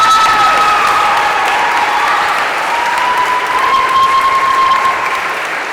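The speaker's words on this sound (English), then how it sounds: "that's why I had us applaud her" At a senior awards ceremony at Mount St. Joseph Academy, a crowd claps in a loud, sustained round of applause that eases slightly toward the end, with a few voices faintly mixed in.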